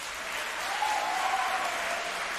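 A studio crowd claps and cheers for a costumed wrestling-style character, steady dense applause throughout, with a faint voice rising briefly in the middle.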